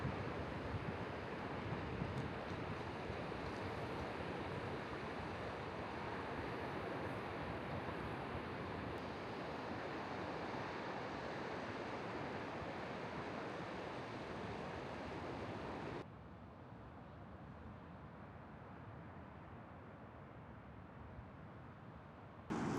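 Steady broadband wash of ocean surf breaking at the shore behind a house, continuous and fairly loud with wind noise over the microphone, dropping to a softer, duller roar for the last few seconds.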